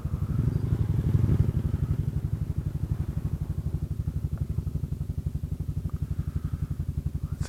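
A Kymco Xciting 400i scooter rides along a seaside coastal road, its engine a steady low throbbing pulse close by with mild wind rumble, no voices.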